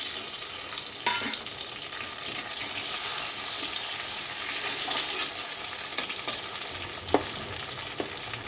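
Tomato going into onions already frying in a pan for a mustard fish curry: a continuous bright sizzle with occasional spoon clinks and stirring scrapes, close and steady throughout.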